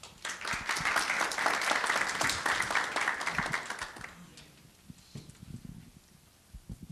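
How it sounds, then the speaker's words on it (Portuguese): Audience at a business conference gives loud, sustained applause for an incoming speaker, fading after about four seconds into scattered claps and room noise. "vamos recebê-lo com uma salva de palmas"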